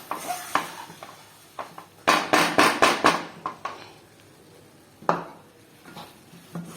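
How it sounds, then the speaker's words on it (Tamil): Milk being stirred into a rava laddu mixture in a pan, with a spoon clattering against the metal in a quick burst of scrapes and taps, then a few scattered knocks and one sharper clink near the end, close by with no talking. "பால் சேர்த்து நல்லா கலந்து விட்டுக்கலாம்."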